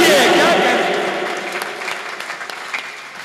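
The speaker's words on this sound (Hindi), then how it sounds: "एक बार जोरदार तालियां बजाइए।" An audience bursts into loud applause at a Hindi poetry recital, dense clapping that starts strong and gradually thins and fades over a few seconds, with a voice briefly heard beneath it.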